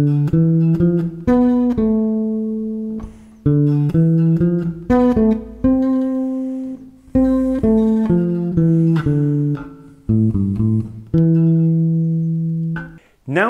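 A bass guitar plays a melody in a plain, straight reading. Sustained notes come in short phrases with brief gaps between them, and the instrument is heard alone with no talking.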